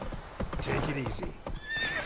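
Horse hooves clip-clop and a horse whinnies in The Witcher 3, close up, with a voice speaking over the hoofbeats.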